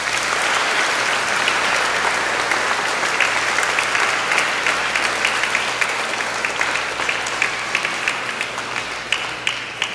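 Sustained applause fills a church during a Saturday feast-day Mass for Saint Gérard Majella in Carrefour-Feuilles, a dense steady clapping from the congregation that holds for the full stretch with sharper individual claps toward the end.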